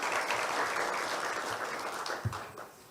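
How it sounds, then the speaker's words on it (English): Conference audience applauding a sponsor bank at a Kenya Power event, a fairly brief burst of clapping that fades out toward the end. "Please, let's clap for them."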